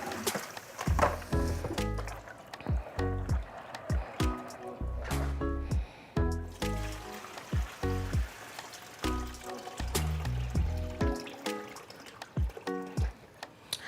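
Beans for moi moi are rinsed and swished in water in a bowl, giving repeated splashing and sloshing pours in irregular bursts, with clunks of the container and talk mixed in between.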